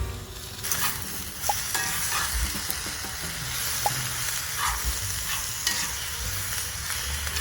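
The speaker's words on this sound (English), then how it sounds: "We placed the cabbage over the hot section for about 10 minutes, stirring every 3 minutes so the bottom wouldn't burn." Cabbage sizzles in a pan over the hot section of a barbecue grill with garlic added, a steady fry hiss under occasional scraping stirs and light clinks, close up with no voices.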